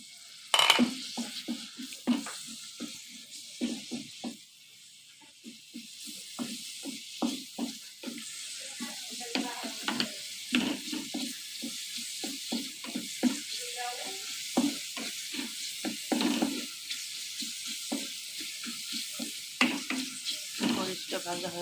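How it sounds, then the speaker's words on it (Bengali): Chili, chopped garlic and onion frying in hot oil in a wok, with a steady sizzle and frequent scraping stirs in rhythmic bursts, close and fairly loud throughout with no talk. "মরিচটা ভালো করে ভেজে নেব।"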